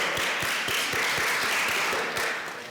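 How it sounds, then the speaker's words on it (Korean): Congregation applause during a Sunday church service in London, a room of people clapping in a quick regular rhythm, moderately loud, fading slightly at the end. "박수."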